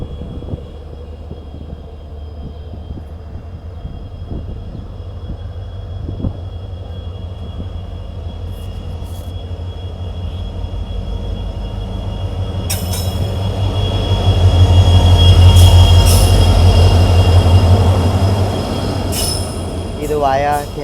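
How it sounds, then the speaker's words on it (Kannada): The Mysore to Yeshwantpur Express, running via K R Nagar, passes at Shanti Grama near Hassan: a loud, continuous rail rumble that builds to a heavy peak midway, with screeching wheel squeals and sharp metallic clanks toward the end. "ಇಲ್ಲೇ ಶಾಂತಿ ಗ್ರಾಮದೊಳಗೆ ನಮಗೆ ಕ್ರಾಸ್ ಮಾಡಾಕತ್ತೆ ಮೈಸೂರಿಂದ ಯಶವಂತಪುರಕ್ಕೆ ಹೋಗುವಂಥ ಯಶವಂತಪುರ"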